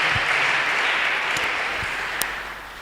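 A congregation at a Christian worship service applauds, a dense, steady wash of clapping lasting about three seconds that tapers slightly toward the end.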